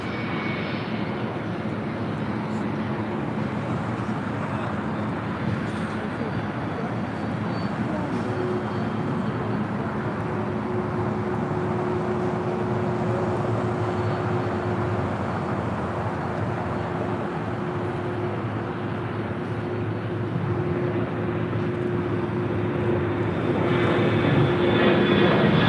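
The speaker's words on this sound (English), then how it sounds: "Delta Airlines 567 is coming in from JFK on the 767-300 ER" A Delta Boeing 767-300ER from JFK comes in to land at LAX, a loud continuous engine roar that holds steady and swells slightly toward the end, with a faint whine on top.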